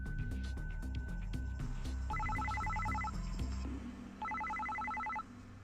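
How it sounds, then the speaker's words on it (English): A cell phone rings in the Psycho-Pass: Mandatory Happiness video game, sounding two bursts of rapid trilling electronic beeps over a steady musical background. "Suddenly, it seemed like her cell phone started ringing."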